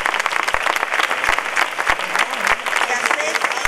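Crowd applause for the first prize winner at a flamenco singing contest final in Sanlúcar, dense clapping with a few sharp knocks and voices mixed into the ovation.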